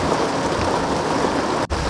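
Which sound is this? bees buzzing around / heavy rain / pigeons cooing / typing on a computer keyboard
heavy rain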